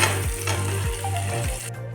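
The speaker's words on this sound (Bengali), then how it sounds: "আলুগুলো ভাজা হয়ে গেছে" Potatoes sizzle steadily in hot oil in a pan, a dense continuous frying hiss with a few soft stirring scrapes, loud and close, cutting off abruptly near the end; no talking.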